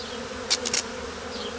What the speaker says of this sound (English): the flying bees that were out foraging have now nowhere to go